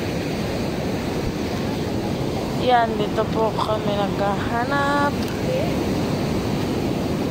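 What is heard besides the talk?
sea waves on a beach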